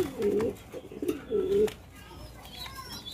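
Podar pigeons in a fancy pigeon loft in Bangladesh give two close, low, rolling coos in succession, with faint voices and light rustling in the background.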